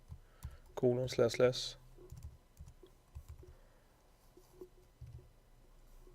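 A computer keyboard clicks as a web address is entered in a browser, soft sparse keystrokes spread out after a short burst of speech, quiet and close.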